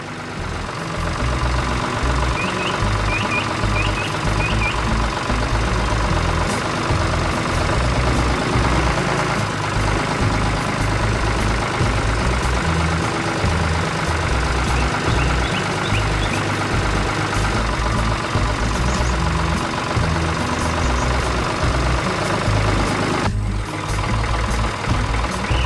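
A green cartoon tractor with a person aboard runs steadily on a farm, its low engine rumble continuous and fairly loud throughout, with a few faint high beeps early on and a brief dip near the end.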